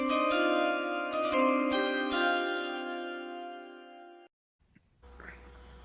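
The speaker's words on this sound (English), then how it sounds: "Can I play the chime?" A bright multi-tone chime marking a mock draft pick rings out loud, with repeated struck notes that ring on and fade away for several seconds before a pause and faint background noise.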